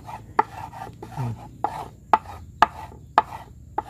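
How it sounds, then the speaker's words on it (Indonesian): A knife chops live silk worms (cacing sutra) into fine pieces for betta fish, giving sharp irregular knocks on a board with softer scraping between them, close and alone. "Tuh, coba kalian cincang-cincang gini terus, kalian balik lagi, jadi satu lagi, cincang lagi"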